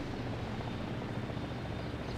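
Aircraft in the video game War Thunder: a steady, dense rotor-and-engine drone from a helicopter and an airplane fills the air continuously, moderately loud, with no talking over it.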